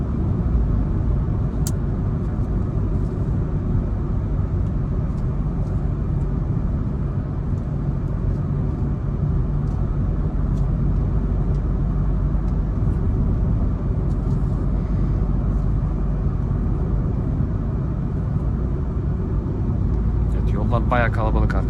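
Renault Clio 4 with a 1.5 dCi diesel and EDC automatic gearbox accelerating, a steady low engine drone and road rumble heard from inside the cabin while someone talks over it throughout.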